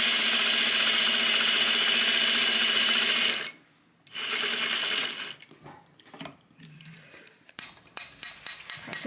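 A sewing machine stitching the shoulder seam of a double-faced wool coat runs in one steady, close whir, stops abruptly, then resumes in short, uneven bursts and clicks.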